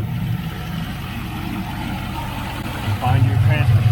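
A car engine idles steadily in park with a low, continuous rumble that swells slightly near the end, while someone talks over it throughout.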